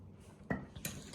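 An oiled balisong butterfly knife with polished washers and pivots clatters as its handles swing, giving two quick, crisp metallic clicks close by, alone and fairly quiet.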